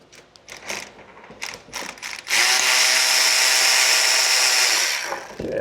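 A ratchet tightens bolts on a GM 5.3 engine: a series of separate clicking strokes, then a long, loud, continuous buzzing ratchet run that stops abruptly, close up.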